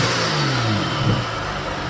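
A BMW F30 335i fitted with a BMS Elite Performance intake revs up close by, its engine note swelling and easing in a steady, continuous roar with no one talking.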